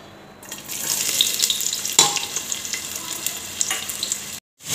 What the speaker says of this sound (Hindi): जब हमारा तेल अच्छे से गर्म हो जाएगा तो हम उसमें अपनी प्याज ब्राउन करेंगे